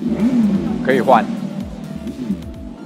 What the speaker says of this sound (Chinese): 它有模拟引擎的声浪哦